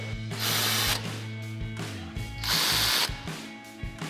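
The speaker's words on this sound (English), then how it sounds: "Now we'll grab our 13mm socket and tighten these back down." A power tool or ratchet runs in two bursts on the brake caliper bolts of a Jeep Wrangler JL during a PowerStop brake kit install, whirring close by with a steady mechanical hum between the bursts.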